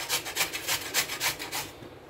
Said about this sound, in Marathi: अशा प्रकारे आपण हा भोपळा किसून घेतला आहे।